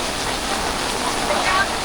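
Athirappilly Waterfalls in Kerala thunders as a steady, broadband roar of rushing, falling water, loud and constant throughout with no break.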